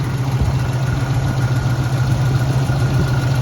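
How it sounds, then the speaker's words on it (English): A restored 1966 Ford Mustang with a 289 V8 and C6 automatic idles steadily close by, a smooth, even low rumble with constant loudness throughout and no ticking or other noises. "Engine sounds great. We don't have any lifter noise or anything."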